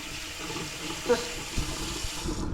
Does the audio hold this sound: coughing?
no